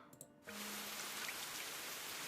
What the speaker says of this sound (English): A resounding noise of droplets hitting the concrete crescendos as the rain continues to fall.